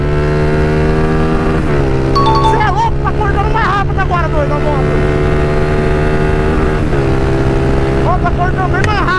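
Honda Fan 160 motorcycle with a silent camshaft, accelerating hard through the gears, its engine note climbing and dropping with each shift, loud and close, with occasional voices over it.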